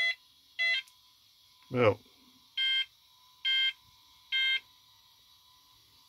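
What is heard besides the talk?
vintage computer beeper beeping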